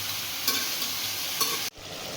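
Chicken liver sizzling and frying in a pan, a steady close crackle with a couple of brief stirring scrapes and an abrupt short break near the end.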